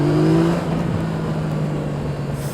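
A Yamaha MT-09 SP motorcycle accelerates hard, its engine note rising in pitch through the gears under steady wind rush, heard from the rider's position.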